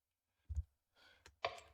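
A few soft, sparse keystrokes on a computer keyboard, quiet and close, arriving as isolated clicks with gaps of near silence between them.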